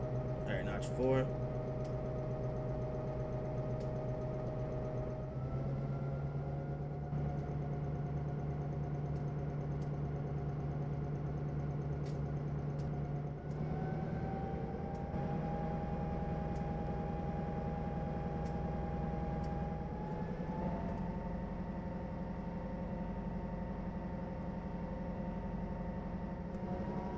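A Santa Fe F7 diesel locomotive engine in Trainz Simulator 3 hums steadily, its drone rising in pitch in several distinct steps as it revs up to notch 4, with occasional faint clicks.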